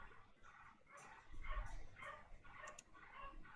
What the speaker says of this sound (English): I have a very loud dog in the neighborhood.